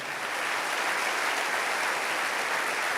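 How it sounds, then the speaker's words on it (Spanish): A church congregation applauds loudly and steadily, a thick, even wash of many hands clapping together with no talk over it. "Alguien tiene que aplaudir más fuerte que eso."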